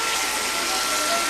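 Boiling hot water pours steadily over a cast iron frying pan during rinsing, a constant broadband rush of running water with no breaks, close and fairly loud throughout.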